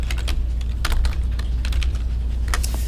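Quick clicks of a computer keyboard typing a short phrase into a cloud spreadsheet, close and distinct keystrokes in small bursts over a low steady hum.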